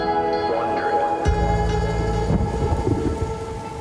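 Heavy rain pours down steadily while a deep thunder rumble rolls in partway through, with a layer of sustained musical tones running underneath the storm throughout.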